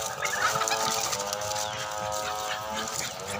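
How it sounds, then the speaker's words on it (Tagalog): Turkeys call continuously in a farmyard, with repeated bubbly gobbling and clucking sounds, fairly close and loud with no talking. "So yung pabo naman."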